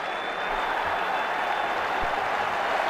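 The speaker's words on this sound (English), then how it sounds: "The crowd enjoyed that shot." Steady crowd applause rings out after a batsman's shot in the video game Ashes Cricket 2009, a dense, continuous wash of clapping at even loudness for about three seconds, with a faint sustained tone running through it.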